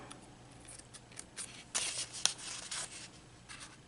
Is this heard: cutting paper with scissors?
yes